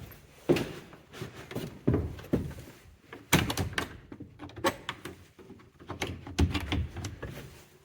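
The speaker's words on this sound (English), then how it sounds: "going through the lectern door" A church's wooden pulpit lectern door opened and closed several times in a quiet interior, with knocks, thunks and creaks spread across the clip and no one speaking.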